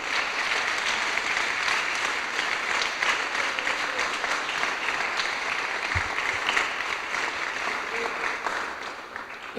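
Steady, moderate applause from a church congregation, continuous clapping filling the room at an even level throughout with no speech over it.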